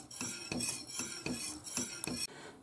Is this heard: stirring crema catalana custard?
yes